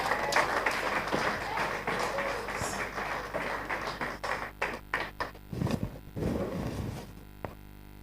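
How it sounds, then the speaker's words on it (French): A church congregation clapping in praise, a fast rhythmic patter of many hands that thins into scattered claps toward the end, with voices mixed in. "On acclame le Seigneur."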